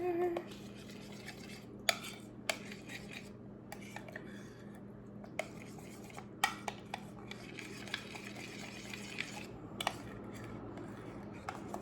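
Almond milk yogurt mixture stirred in a bowl, soft scraping with sharp intermittent clinks of a spoon against the sides, close and fairly quiet.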